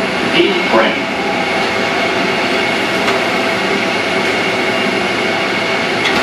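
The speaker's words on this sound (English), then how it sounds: "This is a Woodlawn bound for local train." New York subway local train bound for Woodlawn at 161st Street–Yankee Stadium station: a loud, continuous rumble and roar of the train in motion, with faint squealing tones and a steady mechanical drone throughout.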